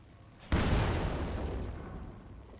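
Light artillery shell landing in a Company of Heroes 2 battle, a single sudden boom followed by a long rumbling, fading decay, moderately distant and alone.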